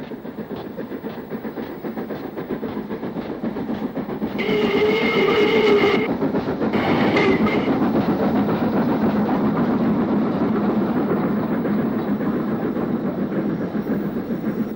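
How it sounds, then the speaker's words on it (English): Two steam locomotives roll past steadily on a rail tour near Edgeley Junction, Stockport, in 1968, with a rumbling, rhythmic clatter of wheels, and a brief horn or whistle sounds partway through. "Taking the Buxton line at Edgeley Junction is 44781 and 45046 on a rail tour to Buxton"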